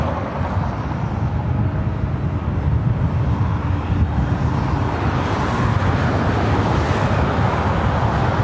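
A fixed-wing airliner rolls for takeoff on the south side of LAX, a loud, steady, broadband jet roar that holds through the whole stretch and swells slightly toward the end, with no voices.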